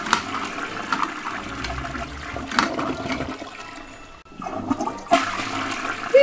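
A Ghostbusters Fierce and Flush toy toilet flushes with a loud, sustained gushing rush lasting several seconds, swelling in bursts and surging again near the end, with no voices.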